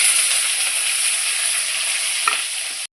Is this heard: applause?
no